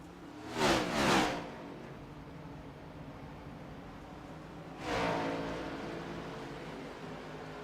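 Race cars roar past at Charlotte Motor Speedway during a long race, two loud passing swells a few seconds apart over a steady distant engine drone, with no talking.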